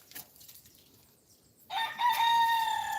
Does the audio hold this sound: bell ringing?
no